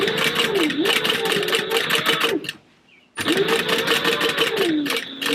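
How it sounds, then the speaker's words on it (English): A sewing machine stitches a Pokemon book bag with a fast, close, rattling hum in two long runs split by a brief pause, with a voice heard faintly under it. "We're going to sew this side"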